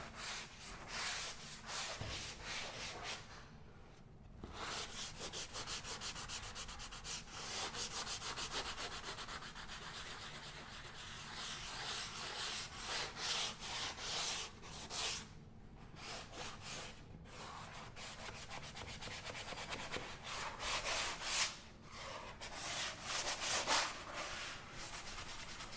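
Sandpaper rubs over a drywall patch to knock down small ridges, producing a long, soft, continuous scratchy hiss in quick strokes with a few brief pauses, fairly quiet and close, with no talking.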